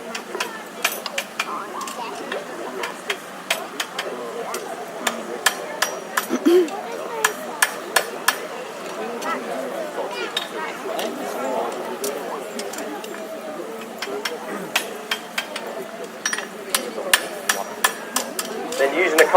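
Farrier at a country show hammering a hot horseshoe on an anvil, putting a bend toward the heel: steady sharp metallic strikes ringing out in quick irregular series, with a crowd murmuring and a voice talking over them.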